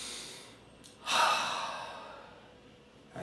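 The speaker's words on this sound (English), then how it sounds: "So that I can take a deep breath" A person takes one slow, deep breath close by, a soft airy inhale swelling after a brief pause and then trailing off gradually, with a faint second breath starting at the very end.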